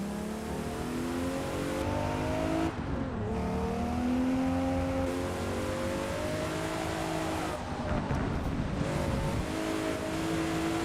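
In the Forza racing game, played with a sim wheel from the cockpit view, a car engine revs and climbs through the gears in steady rising sweeps, with brief drops at shifts, loud and continuous without talk.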